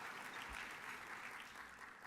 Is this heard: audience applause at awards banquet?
yes